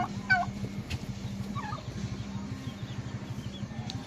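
A flock of turkeys gobbles on a farm, with a sharp gobble near the start and more gobbles spread through, over a steady rhythmic clucking and murmuring of fowl in the background.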